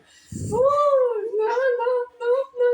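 A tomcat meows several times nearby: one long rising and falling cry followed by a few shorter, whiny meows.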